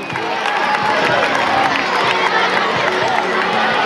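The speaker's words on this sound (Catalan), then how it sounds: "un aplaudiment a Joan Carles!" A crowd at a school singing event claps and cheers, a dense roar of clapping mixed with shouting children's voices, loud and sustained throughout.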